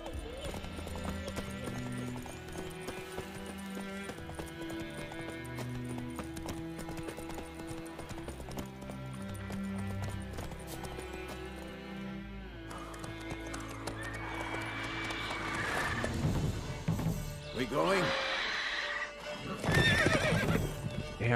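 Roach the horse in The Witcher 3 game audio, hooves clip-clopping closer and a loud neigh near the end, over music and game voices.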